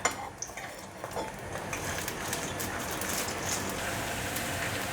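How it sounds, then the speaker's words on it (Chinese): Wheat gluten (kao fu) frying in a generous amount of hot oil in a wok, giving a steady, dense crackling sizzle with a few light utensil clinks, close and continuous with no voices. "油热了，放入烤麸进来炸"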